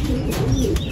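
Racing pigeons back at their loft coo steadily and close by in a brief burst, with soft bird calls layered over a constant background hum.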